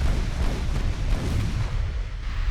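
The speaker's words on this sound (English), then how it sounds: "That fire coming in from the battleships." Battleship guns fire in the naval game Ultimate Admiral: Dreadnoughts, a dense continuous rumble of low booms and distant shell blasts rolling together without pause.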